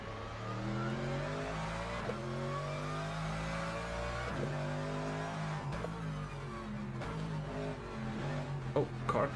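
LMGT3 race cars in a sim racing game at the Algarve circuit, engines droning and rising through gear changes as cars close in and pass, loud and continuous with repeated shifts.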